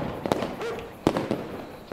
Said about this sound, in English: Listen, it's the fireworks.